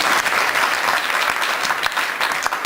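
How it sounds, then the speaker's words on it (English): A theatre festival panel audience breaks into steady, dense applause, with clapping filling the room throughout. "I think that deserves a round of applause."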